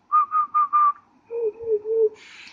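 A person demonstrating the Calexy whistle, a human whistling technique with wide rounded lips: four short high whistled notes, then three longer, lower notes, clear and close with no talk.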